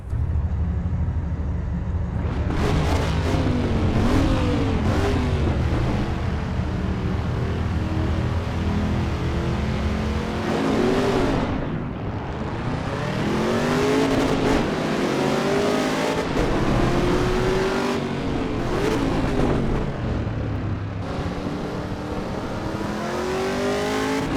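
A Camaro race car laps Mount Panorama in the racing game Assetto Corsa EVO, its engine roaring continuously and loud, rising through gears with sharp drops at shifts and brief tyre squeal.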